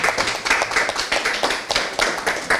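An audience claps for the Japanese ambassador at a grant signing ceremony, steady close clapping of a modest crowd with uneven individual hand claps throughout.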